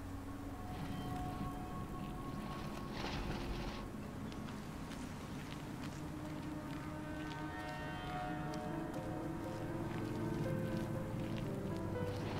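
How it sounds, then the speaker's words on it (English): Steady rain falls in the Unknown Fate video game, a soft continuous patter and hiss spread across the scene, faint and even throughout with a low ambient hum beneath. "I can feel the wind and rain on my skin."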